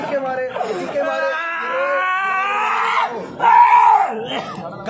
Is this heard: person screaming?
yes